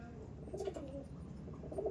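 Saharanpuri Lal Jiriya pigeons coo softly at a pigeon sale, two or three faint, throaty coo bursts rising out of a low background hum with no talk.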